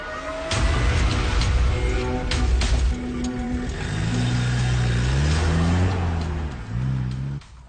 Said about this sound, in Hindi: हाँ, गाड़ी स्टार्ट हो गई।